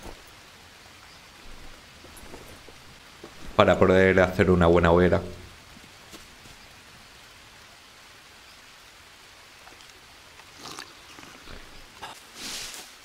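Steady rain hisses through the jungle in the survival game Green Hell, a soft constant wash across the whole stretch, briefly covered by someone speaking loudly near the start before the downpour continues alone.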